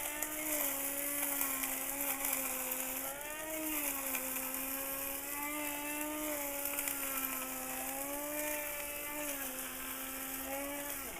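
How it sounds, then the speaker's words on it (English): Electric spice mill with a spinning blade grinds Ceylon roast curry spices, a continuous steady whine that wavers slightly in pitch, heard close with nothing else in the mix. "And grind the spices."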